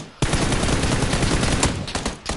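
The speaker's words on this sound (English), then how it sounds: "But gunshots sound like." Rapid, dense gunfire from a PUBG match on PS4 bursts in after a brief quiet moment and sounds loud and close. It keeps going as a near-continuous volley before thinning into a few scattered cracks.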